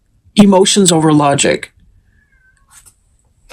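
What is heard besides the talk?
cat meowing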